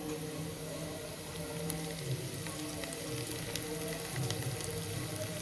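Green chillies hit a hot pan and fry with a steady, loud crackling sizzle that continues evenly throughout, with no talk.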